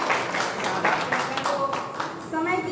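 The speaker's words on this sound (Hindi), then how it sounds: "थोड़ा सा ताली बजा दें आप।" An audience claps at a mushaira, an Urdu-Hindi poetry gathering in Mirzapur, with a sustained ripple of hand claps running through the whole stretch, mixed with voices and ending with a brief tonal sound.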